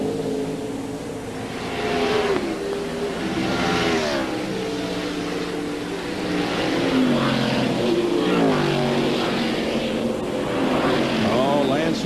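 NASCAR Cup Series race cars roar around a road course, their engines whining and shifting pitch as they rise and fall, continuous and loud beneath a commentator talking throughout.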